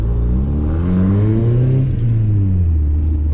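A Mazda MX5 accelerates along a dual carriageway, its engine note climbing and then easing in a close, loud, continuous drone with a deep rumble beneath, and no talk.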